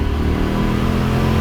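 Supercharged work van accelerating hard, a loud steady engine roar with a dense, rumbling low end that holds without a break for the whole moment, no voices.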